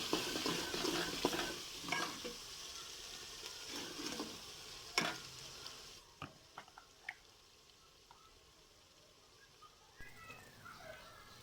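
Chopped chilies stirred with a spoon in hot oil, giving a soft sizzle with scattered scrapes and clinks that thin out to faint, sparse taps in the second half.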